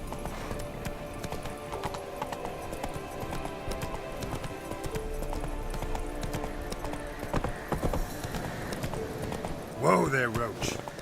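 Roach, Geralt's horse in The Witcher 3, clip-clops at a steady gallop throughout, hooves loud and close, with voices speaking over the hoofbeats and a short whinny near the end.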